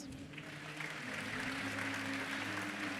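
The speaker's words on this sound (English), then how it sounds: "Give yourselves a round of applause." Students at an honors recognition convocation clap for themselves, a faint, distant patter of applause that swells slightly and holds steady, with a low hum beneath.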